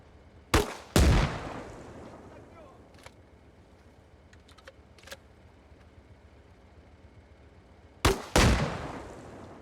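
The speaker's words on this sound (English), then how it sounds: "So now we'll do the same for the HEDP rounds, testing the front, side and rear" High-explosive dual-purpose rounds striking a BTR armored vehicle in Arma Reforger: two sharp, loud blasts near the start and another pair near the end, each with a short rumbling tail, separated by quiet stretches of faint clicks.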